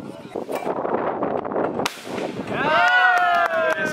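A single sharp crack rings out, like a shot, between stretches of noisy outdoor sound on a country estate, followed by a voice shouting in a raised, drawn-out tone.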